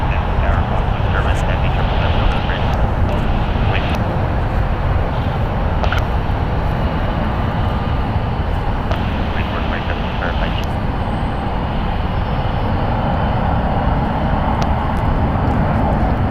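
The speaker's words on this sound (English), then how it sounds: "Flight 1513 coming in from Houston. It is a 3-hour and 13-minute flight on a Boeing 787-9 Dreamliner, 7 years old." United Airlines Boeing 787-9 Dreamliner, seven years old, arriving at San Francisco International Airport from Houston, a loud, steady, broad jet engine roar that continues throughout with little change, with a voice talking over it.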